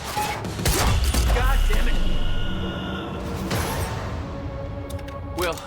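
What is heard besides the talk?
gunfire in the video game Quantum Break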